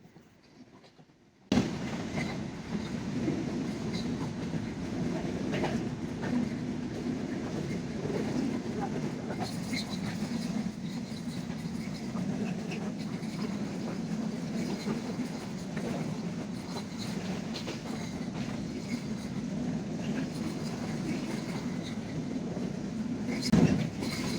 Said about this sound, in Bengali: পদ্মা এক্সপ্রেস ট্রেন এখন Bhangura rail station through pass যাচ্ছে